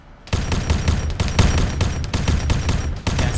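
An 8-shot grenade launcher fires in a video game: a loud, rapid string of about a dozen punchy, evenly spaced shots with a brief pause near the end, heard alone.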